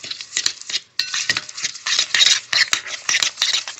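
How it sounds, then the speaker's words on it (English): Cookie batter is mixed in a bowl with a utensil, making quick repeated scraping and clinking strokes close by in an uneven rhythm, with a short pause near the start. "Now we mix again."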